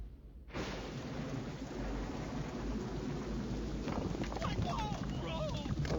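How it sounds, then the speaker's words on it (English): Steady heavy rain with a low rumble of thunder in a Scooby-Doo river rapids video game, a dense continuous wash starting abruptly, with a voice speaking briefly near the end. "looks like rain."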